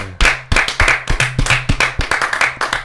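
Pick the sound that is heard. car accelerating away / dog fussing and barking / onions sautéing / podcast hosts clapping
podcast hosts clapping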